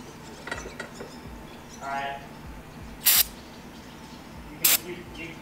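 Bursts of ether starting fluid sprayed from an aerosol can into the air cleaner of a Mack diesel semi truck, two sharp hissing blasts about a second and a half apart, close and loud, after faint mechanical clicks.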